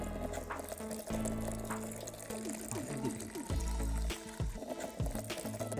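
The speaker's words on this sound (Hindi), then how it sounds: "और ये गर्म पानी कंटिन्यू अब आता ही रहेगा।" Hot water pours steadily from a homemade instant water heater, a continuous close splashing flow with someone speaking over it.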